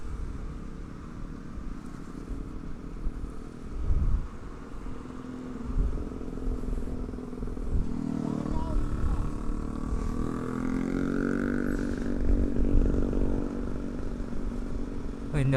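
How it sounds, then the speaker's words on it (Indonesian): A group of Vespa scooters passes on a busy Sunday morning street. Their engines rise and fall as the bikes go by at mixed distances, with traffic rumble throughout and people talking nearby. "ini rombongan Vespa, guys"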